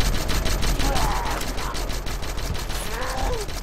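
Rapid, sustained automatic gunfire in a shooter video game, with dense repeated shots running through the whole stretch and faint voices underneath.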